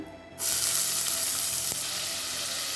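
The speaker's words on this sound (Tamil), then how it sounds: "கடாயில் தேவையான அளவு எண்ணெய், பொடியாக நறுக்கின கொஞ்சம் வெங்காயம் சேர்த்துக்கலாம்" A sudden loud sizzle erupts as finely chopped onions hit hot oil in a pan, then a steady crackling fry continues close up with no talking.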